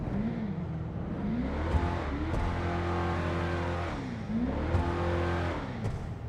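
A Declasse Drift Walton L35 truck engine in GTA Online idles with a deep, steady rumble, then revs up twice in rising swells that fall back. The sound is loud and close, echoing in an enclosed car park, with no voices.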